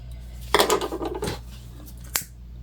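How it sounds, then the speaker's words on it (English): Scissors snip threads on a newly top-stitched fabric pouch: a close burst of crisp metallic cutting clicks, then a pause and one final sharp snip. "I'm just going to trim our threads."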